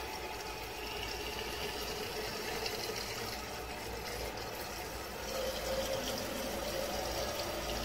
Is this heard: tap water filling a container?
yes